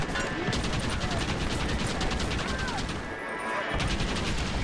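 Rapid machine gun fire in Red Dead Redemption during a fort battle, a dense stream of fast rattling shots that pauses briefly and resumes, over busy game ambience.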